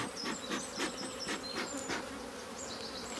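Honeybees buzz steadily at a hive opened for a frame check, with a dense continuous drone and individual bees whining past close by, no talk.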